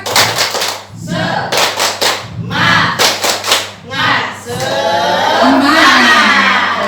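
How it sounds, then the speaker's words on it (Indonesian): Group of women in a classroom or gathering doing a rhythmic spirit clap, bursts of patterned clapping in quick sets with short pauses, then a louder cheering shout from the crowd at the end. "Tepuk semangat."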